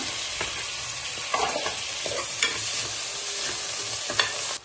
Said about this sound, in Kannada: ಇದನ್ನು ಸ್ವಲ್ಪ ಫ್ರೈ ಮಾಡೋಣ